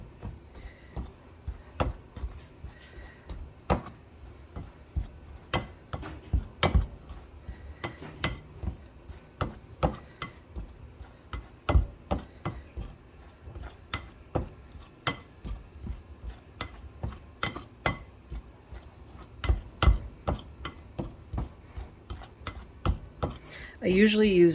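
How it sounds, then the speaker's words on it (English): A pastry cutter chops lard into flour in a bowl for a pie crust, making a steady series of sharp, close metallic clicks and taps at an uneven rhythm, with quiet scraping between strikes. "I'm going to cut that lard into this flour with a pastry cutter"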